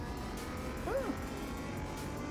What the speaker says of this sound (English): The engine noise is kind of strange.